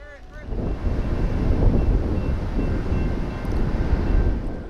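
A CSX train rumbles past at a distance crossing the Russell Fork river, with a steady low roar and some wind noise across the microphone.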